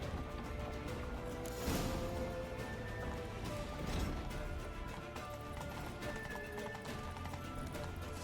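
Horse hooves clip-clop in a steady galloping rhythm in The Witcher video game, over a dense, continuous background rumble, with no voices heard.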